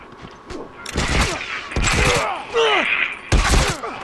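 Short bursts of rifle fire from a burst rifle in The Last of Us multiplayer, several loud clustered volleys spaced through the moment, mixed with game effects and some voice.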